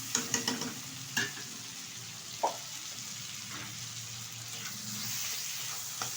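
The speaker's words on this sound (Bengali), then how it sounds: "দিয়ে দেব বেছে রাখা চিংড়ি মাছ, হালকাভাবে একটু ভেজে নেব" Shelled prawns lightly fried and stirred in a pan for a cabbage curry: a steady sizzling hiss with a few sharp stirring scrapes and knocks near the start. No one speaks.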